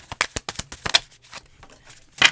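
Tarot cards are shuffled by hand in a quick series of close, crisp riffling and slapping bursts, with a brief pause before a louder final flurry.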